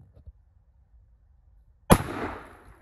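A single 45-70 rifle shot strikes a center block with a sudden loud crack, followed by a short ringing, crumbling tail, after near silence with a faint murmur at the start.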